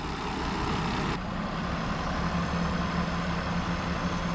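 A tractor engine labors steadily in low gear while towing a 1961 Chevrolet Parkwood wagon, giving a continuous loud low drone with a slight shift in tone early on, without any voices.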